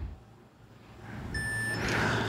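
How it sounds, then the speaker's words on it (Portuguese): Electronic beeps from an e-collar remote control, model ME-300 or ET-300, during pairing. A thin steady tone sounds for about half a second, then a brighter beep follows. Both sit over low background hum, and no one speaks. "Você vai ver essa sequência de números, e esse bip."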